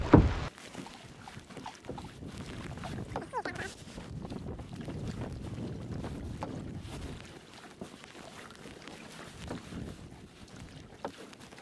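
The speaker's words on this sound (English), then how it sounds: "Let's paddle in." Paddling a boat into a shallow river with light rapids, soft paddle splashes and water movement under wind noise, close to the microphone, with an occasional faint voice.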